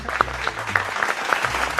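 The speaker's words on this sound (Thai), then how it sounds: "ปรบมือให้กับปลั๊กไฟกับคุณเอด้วยครับ" Studio audience on a Thai TV detective quiz show claps in a moderate round of applause, individual claps standing out over a steady patter, with a faint voice underneath.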